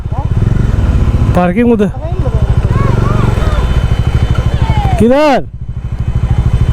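A motorcycle engine runs steadily and close by while the bike is being parked in Cherrapunji, Meghalaya, with people talking over it and a brief rise in engine pitch near the end.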